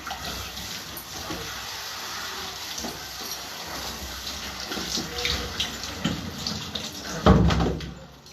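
Shower water running steadily throughout, a close, continuous splashing hiss with a brief knock or clatter near the end; no speech.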